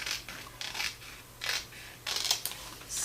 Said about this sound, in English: so I will cut this